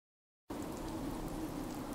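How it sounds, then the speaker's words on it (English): Steady video game rain hisses evenly after a brief silence at the start, a soft continuous patter with no voices. "More damned rain."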